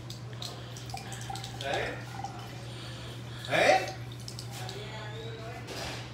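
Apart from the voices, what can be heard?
water from bathroom tap wetting hands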